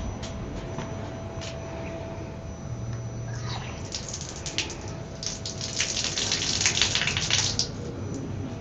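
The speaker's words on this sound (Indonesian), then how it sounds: "Itu airnya hidup ya" Water runs in a mosque's toilet, starting as a quiet trickle and then swelling into a louder splashing gush close by, with no speech.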